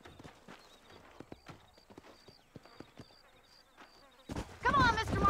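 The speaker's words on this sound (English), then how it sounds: "These are fine horses." Horses clip-clopping in the video game Red Dead Redemption: a steady series of distinct hoof clops at moderate distance, followed by a louder burst of rustling and noise near the end, with no speech.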